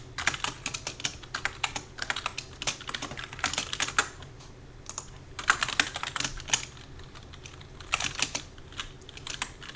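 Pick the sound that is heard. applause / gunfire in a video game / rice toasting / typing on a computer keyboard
typing on a computer keyboard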